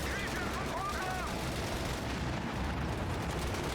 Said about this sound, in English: Sheen does not want these Pack 40s to be captured, so they're going to go and destroy their own ordnance